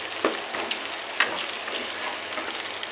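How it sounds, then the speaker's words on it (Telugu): Chicken pieces sizzle and fry in masala in a pan, with a steady crackling hiss and a few louder scrapes as the mix is stirred, close and alone without talk. "చికెన్ వేసుకున్న తర్వాత మసాలా అంతా చికెన్ బాగా పట్టేలాగా కలుపుకోవాలి"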